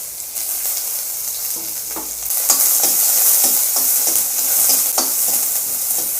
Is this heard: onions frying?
yes